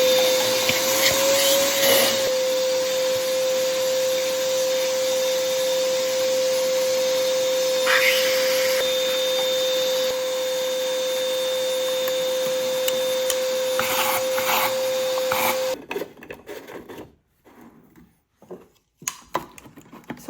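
Steady whine of a shop vacuum cleaning abrasive out of a Foredom Wolf sand blaster, with a few rattles of the nozzle along the way, then the motor cuts off and scattered clunks and handling noises follow.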